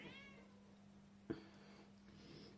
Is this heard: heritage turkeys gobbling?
no